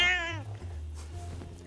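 A rescued Filipino street cat (Puspin) named Drogon gives one loud, drawn-out meow up close, followed by quieter low rumbling room sound.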